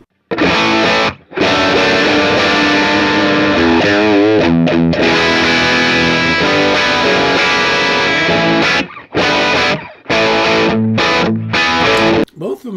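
Overdriven electric guitar through an open-back cabinet, bright and loud, with sustained chords and quick chopped rhythmic bursts toward the end.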